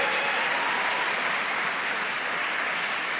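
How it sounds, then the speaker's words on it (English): A large gala audience applauds, a dense, even wash of many hands clapping at once, sustained and loud for the whole stretch without letup. "Let's give them a round of applause"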